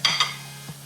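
Onions and ginger garlic paste fry in a pot, with two quick scraping stirs close up and then a faint third, a soft sizzle running underneath.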